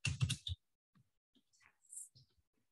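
Short burst of computer keyboard typing, several quick close keystrokes, followed by a few sparse isolated clicks and light sounds.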